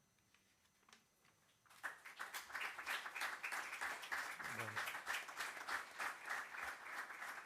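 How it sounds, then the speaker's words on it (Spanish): Audience applause for the poet Montiano Pla at a book presentation, starting abruptly after a brief spoken word and continuing as steady, dense clapping from a seated crowd. "El aplauso, lógicamente, para Montiano"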